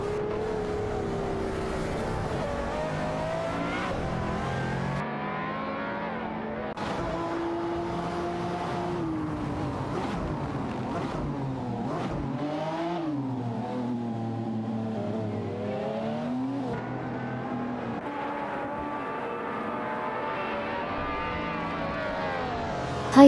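Video game race cars, including a McLaren F1 GT and a Ferrari F60 America, scream through a race with engines revving up and down in sweeping pitch changes, loud and continuous throughout.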